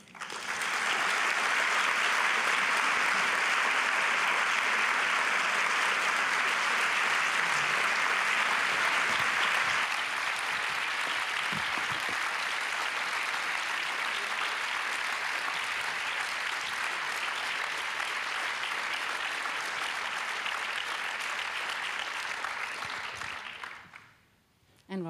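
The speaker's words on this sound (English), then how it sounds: "And rightfully so, there is a long applause." Long, sustained audience applause at a humanitarian congress, a dense, steady wash of clapping at full volume that holds for over twenty seconds before fading out abruptly at the end.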